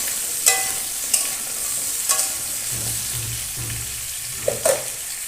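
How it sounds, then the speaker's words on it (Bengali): Potatoes and pumpkin pieces frying in oil in a pan, a soft steady sizzle with a few sharp clinks and scrapes of a stirring utensil against the pan. "আলু কুমড়োগুলো ভেজে নেব। এগুলো ভালো করে ভেজে নেব।"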